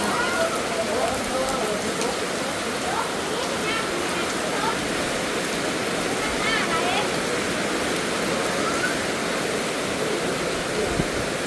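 Dense, steady hiss of a heavy rainstorm pouring down on rice fields, loud and continuous with no letup, a constant wash of water drumming on surfaces.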